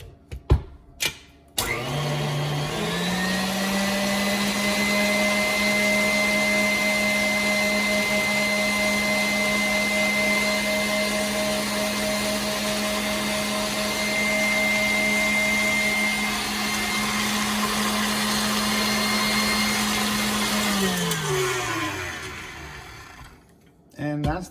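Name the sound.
electric mixer beating cream cheese pie filling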